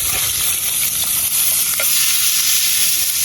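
Seasoning being stirred into a frying pot of ackee filling for Jamaican ackee and cheese patties, with a steady sizzle and the scrape of stirring throughout, close and fairly loud.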